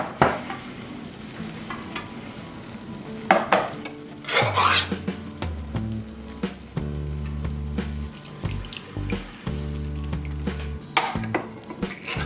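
Ratatouille and red beans are stirred into a pan of cooking rice, with a spoon scraping and clinking against the pan over a low sizzle in several bursts.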